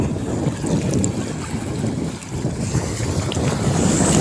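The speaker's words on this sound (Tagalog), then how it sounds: "Lakas-lakas na yung alon dito." Strong sea waves churn and wash continuously close by on a rocky shore at high tide, mixed with steady wind buffeting the microphone, forming a dense, rumbling roar with no voices.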